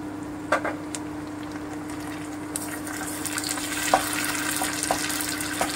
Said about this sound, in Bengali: এবারে আমি টমেটো দিয়ে দিচ্ছি।